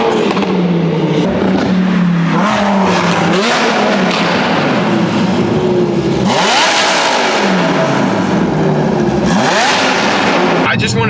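Audi R8 fitted with exhaust expansion chambers, revving loudly and close, with repeated rising and falling engine sweeps across the clip and a sharp blip partway through.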